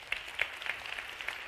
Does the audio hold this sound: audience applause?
yes